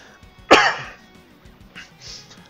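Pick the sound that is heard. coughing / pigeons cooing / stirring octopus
coughing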